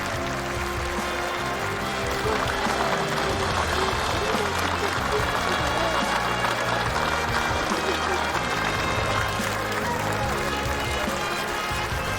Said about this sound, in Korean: 준공식 참가자들은 열렬한 박수갈채를 터쳐 올렸습니다